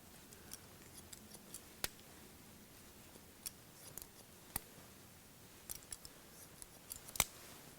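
Scissors snip straight hair during a short men's haircut, with quick sharp cuts arriving in a sparse, irregular rhythm against a quiet background and no talking.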